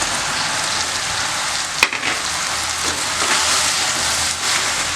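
Washed mushrooms hit a hot pan for a Tamil mushroom gravy and sizzle in steady, loud frying hiss, with a brief clatter partway through as they go in.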